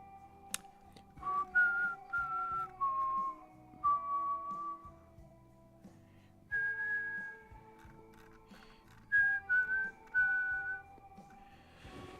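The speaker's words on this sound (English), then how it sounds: "Sorry to whistle in y'all's ear." A person whistles a tune very close to the microphone in several bursts of bright, loud notes, set against a quiet room with faint background hum.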